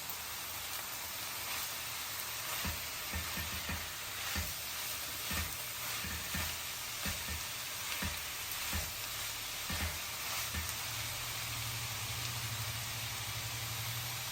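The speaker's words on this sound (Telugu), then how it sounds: "తోటకూర ఆల్మోస్ట్ ఫ్రై అయిపోవచ్చిందండి" Amaranth greens mixed with lentil powder fry in oil in a pan, giving a steady close sizzle broken by repeated clicks and scrapes of stirring.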